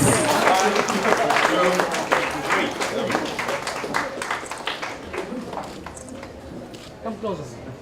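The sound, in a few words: audience applause at a book launch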